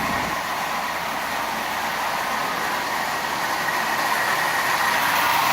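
Marx B&O diesel toy locomotive running steadily on track, a continuous close whirring motor hum with rattling wheels and no pauses.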